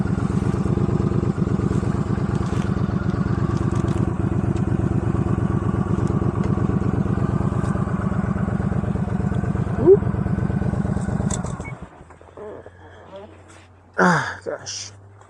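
Motorcycles riding past, a loud sustained engine drone for most of the span that cuts off near the end, followed by brief clatter and a voice.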